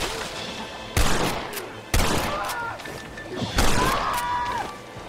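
Gunshots in the Western video game Red Dead Redemption: three loud, sharp cracks spaced about a second apart, each trailing into a short echo, with faint game ambience and a brief voice between them.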